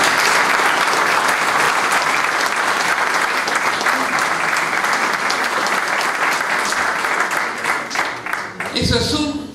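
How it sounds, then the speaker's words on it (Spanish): Sustained audience applause at a teachers' farewell event at San Carlos, loud and dense throughout, with a voice and some clatter near the end as it tapers. "voy a hacer un aplauso"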